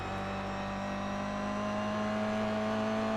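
A Toyota GR86 race car laps Summit Point Raceway in iRacing, its engine holding a steady, close, even whine with a faint mechanical hum beneath, no talk over it.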